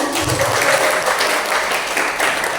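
Teachers at a writing workshop give a round of applause, a loud, even spread of clapping from a roomful of people that holds for a few seconds, with a voice faintly beneath.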